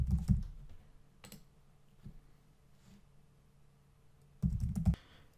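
A computer keyboard typed in short bursts while entering a wallet backup recovery phrase: a few clusters of close key clicks separated by quiet gaps.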